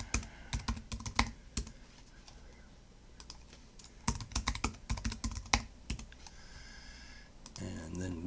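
Close, clattering keystrokes on a computer keyboard while a registration form is filled in, coming in irregular bursts with short pauses, followed by softer clicking near the end.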